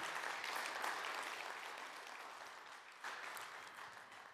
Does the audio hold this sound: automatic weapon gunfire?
no